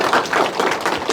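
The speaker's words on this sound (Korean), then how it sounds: "지금 무심해서 열심히 공부하고 계시니까 큰 박수 부탁드립니다" Short burst of audience clapping at a lecture in Busan, a few seconds of scattered hand claps close by, with no talking over it.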